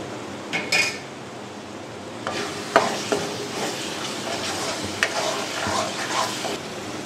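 Spice masala with ground kasuri methi is stirred in hot oil for an omelet curry. A spatula scrapes the pan and gives occasional sharp knocks over a soft, continuous sizzle, close by.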